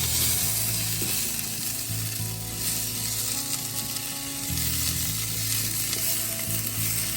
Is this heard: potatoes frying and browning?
yes